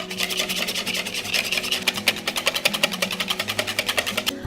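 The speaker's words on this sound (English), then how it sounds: "I'm gonna whisk these egg yolks for about 3 minutes until they become lighter in color and a little fluffier" Egg yolks are whisked briskly in a bowl for homemade ice cream, with rapid, rhythmic scraping strokes that tighten into an even, quick beat, close and moderately loud.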